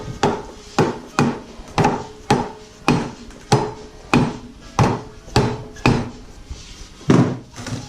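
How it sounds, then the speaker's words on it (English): Hammer repeatedly striking the lower ball joint on a 2004 Honda Accord, about a dozen sharp metallic blows in a steady rhythm, close and loud with no talking. "Maybe I can just use this hammer."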